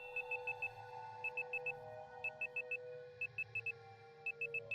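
Repeated groups of four quick high electronic beeps, like a Samsung phone alarm, mark a run-out timer in the Resident Evil REmake video game, sounding regularly over a steady low game ambience.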